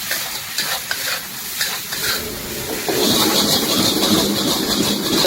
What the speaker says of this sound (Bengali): ভালো করে আমি মিক্স করে দেবো নুডলসটাকে।